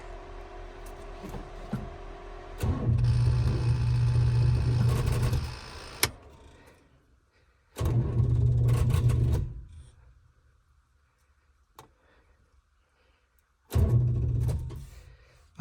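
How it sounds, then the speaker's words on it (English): Loud bursts of whirring cooling-fan noise from a 1969 Buick Special Deluxe switch on and off, three separate runs with quiet gaps between them, steady and mechanical while running. "the fans are going way louder"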